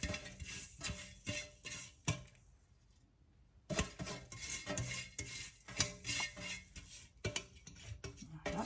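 Semolina scraped out of a couscous steamer for a traditional seffa, with repeated metallic scraping and stirring strokes, a pause of near silence, then faster scraping and clinking resuming close up.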